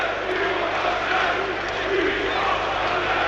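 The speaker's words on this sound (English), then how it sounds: "Just trying to hear what the home crowd was chanting" Home crowd chanting in a football stadium during Wolverhampton Wanderers versus Ipswich Town, a loud, continuous roar of many voices filling the ground with no clear break.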